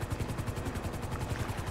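A coast guard helicopter in GTA 5 during an ocean rescue gives a steady, continuous rotor thump with fast, even low pulses throughout, fairly loud and close, with no talk over it.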